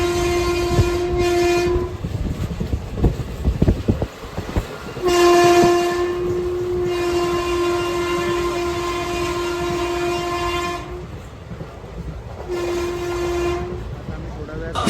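A passenger express train from Dadar to Sainagar Shirdi rumbles along the rails while its horn sounds in three long, steady blasts, separated by brief gaps.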